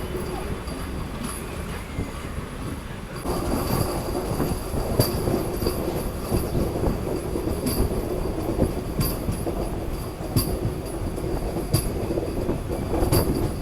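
A MEMU passenger train rumbles steadily along the rails, with rhythmic clicking and occasional metallic squeals over a constant loud roar.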